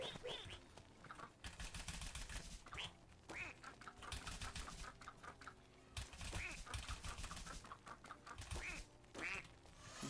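A duck in the platform video game Rayman Legends quacks in repeated short bursts, steady and fairly faint, mixed with clicky game effects and no talking.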